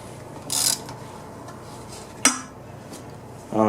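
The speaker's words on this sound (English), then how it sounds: "So we'll loosen these bolts." Bolts are worked loose on a Briggs & Stratton V-Twin engine, with a few sharp metallic clinks and clanks of tools on metal spaced apart over a quiet workshop background.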